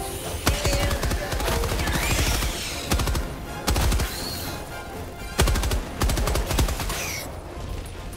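Rapid SMG bursts rattle out in the video game Helldivers 2, loud and repeated in several strings of automatic fire with short gaps, mixed with game effects and explosion-like thumps.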